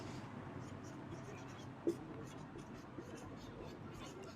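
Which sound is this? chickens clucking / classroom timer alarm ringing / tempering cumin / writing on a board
writing on a board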